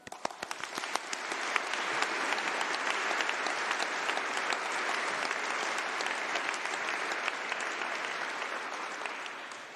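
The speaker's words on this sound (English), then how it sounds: "May we have a round of applause for yourselves and the people who worked that hard to make this organization or this event happen." Sustained applause fills a graduation congregation ceremony hall, a dense crowd clapping steadily for about ten seconds, with a few louder individual claps standing out at the start.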